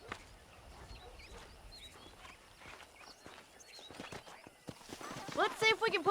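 Horse hooves clip-clop in a steady walking rhythm in the video game Red Dead Redemption, faint at first and growing louder, with a whinny and bird chirps near the end.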